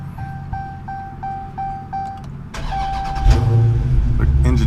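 A new Dodge Charger 392 Scat Pack gives a run of evenly spaced dashboard chime beeps, then its engine cranks and fires into a loud, deep, steady rumble close by.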